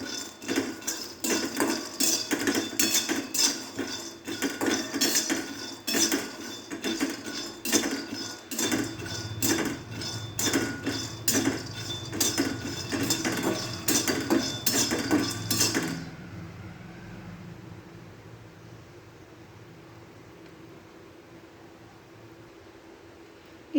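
Peanuts being dry-roasted and stirred in a pan for a cowpea pod sabzi, rapid dense metallic rattling and scraping that runs loudly for about sixteen seconds, then drops to a faint low hiss.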